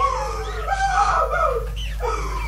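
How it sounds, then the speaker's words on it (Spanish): A woman screams in a Spanish-language radio drama, a wavering, rising cry lasting a couple of seconds over a low steady hum. "Y el grito partió de ese lado."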